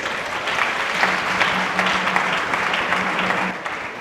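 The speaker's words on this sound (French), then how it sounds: "Il faut les applaudir" Congregation applauding at a church service sending out newly ordained pastors, a broad steady wash of clapping from a large room with a faint low hum beneath it.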